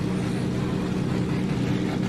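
A pack of drift cars grouped together on a Malaysian circuit, their engines roaring at once as a steady, dense, loud drone with a continuous low rumble and no pauses, at a Drift Kings Asia Cup and National Drift Series event.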